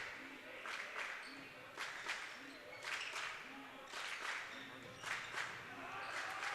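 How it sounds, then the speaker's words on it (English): A crowd at a high school basketball game cheers in swelling waves, faint and distant under a broadcast commentator's steady talk. "You can hear the crowd getting behind Indian Trail a little bit now."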